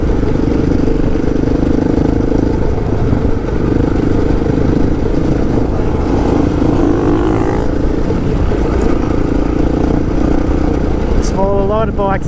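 Adventure motorcycles, including a KTM 690, riding a road on a group ride near Brisbane, with steady loud engine drone and wind rush filling the scene throughout, rising briefly near the end.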